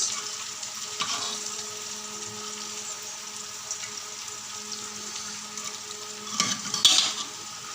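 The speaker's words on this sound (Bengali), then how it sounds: "মাছের ঝোল রান্না হচ্ছে কলাই ডাল দিয়ে।" Fish curry simmering with kalai dal in a pan: a steady soft sizzle and bubbling with occasional stirring and utensil clinks, close and moderately loud, no talking.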